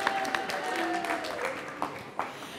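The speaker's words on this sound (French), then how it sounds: "Merci, Nanou, on peut l'applaudir, Nanou." A conference audience applauds with scattered, fairly close clapping through a continuous patter, a few sharper individual claps standing out, while a voice speaks over it.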